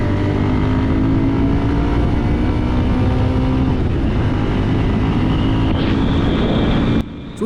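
A Bajaj Pulsar 150 STD 2024 motorcycle's engine and exhaust drone steadily and loudly while riding, with a continuous harmonic hum and broad road rush that cut off abruptly near the end.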